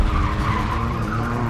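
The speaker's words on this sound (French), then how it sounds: "Dans la vidéo originale, la voiture fantôme fait demi-tour" Car tires skidding and squealing through a U-turn, a loud continuous screech with engine roar underneath that holds steady for the whole stretch.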